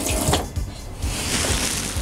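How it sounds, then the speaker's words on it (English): Water runs from a motorhome tap fed by the onboard water pump, a steady close splashing flow into the sink throughout, with no talking. "running water"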